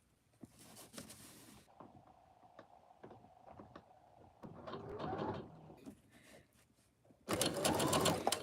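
A sewing machine lock-stitches fabric while preparing items for a craft fair, with short, uneven bursts of motor whir and stitching. Small handling clicks fall between the bursts, and a louder, sustained run of sewing comes at the end.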